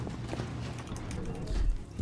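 Horse hooves pounding in a gallop in the video game Rust, a rapid rhythmic clatter running steadily under people talking, with a heavier thump near the end.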